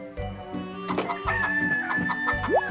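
Chickens in the farming video game Harvest Moon: Save the Homeland cluck and crow in repeated short game-sound bursts over a light background melody, with one rising squawk near the end.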